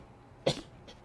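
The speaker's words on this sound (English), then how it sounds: "Excuse me for that cough." One short, sharp cough sounds at close range in a quiet room, followed moments later by a fainter second catch of breath.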